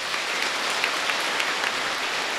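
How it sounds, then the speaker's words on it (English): Audience applause for students at a primary school prizegiving: a continuous, moderately loud patter of many people clapping together, steady throughout. "Please give all these students a round of applause."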